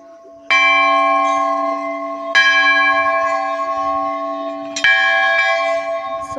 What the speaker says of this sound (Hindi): तो यहाँ सब घंटी बजा के आ रहे हैं।